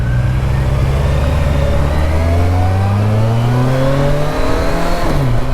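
A 2023 Kawasaki Versys 1000 LT motorcycle with an inline-four engine, riding with a loud, steady engine drone whose pitch rises smoothly through the gears, heard close with wind noise.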